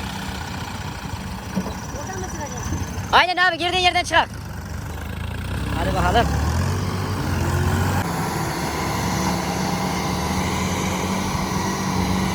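A Başak 2075 tractor with its cab windows removed runs in a muddy field, its engine a low continuous rumble that swells partway through, while someone speaks briefly over it.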